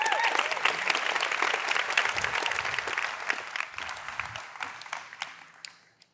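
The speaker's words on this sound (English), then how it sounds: "Give them a massive round of applause." Enthusiastic audience applause at a Salesforce marketing presentation fills the room, dense and lively at first, then thinning and fading out toward the end.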